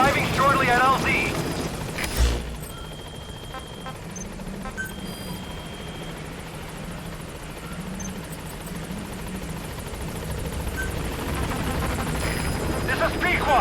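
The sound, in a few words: B-Quad support helicopter arriving, from video game Metal Gear Solid 5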